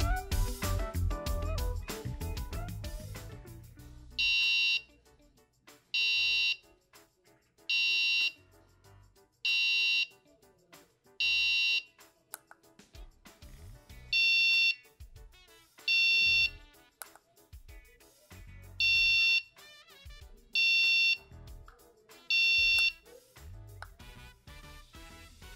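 A homemade computer alarm clock runs its snooze loop: after a few soft clicks, a higher-pitched electronic beep sounds in about ten short, evenly spaced bursts, loud and close against near silence.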